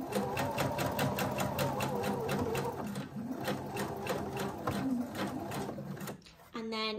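A sewing machine stitches a seam in fabric with a steady, rapid mechanical clatter for about six seconds, then stops abruptly, close and clear.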